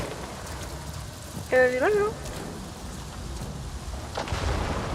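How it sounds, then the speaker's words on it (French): Steady rain with distant thunder rumbles in a video game hunting episode, a continuous hiss through the whole stretch while a voice speaks briefly over it. "Ah! Il pleut!"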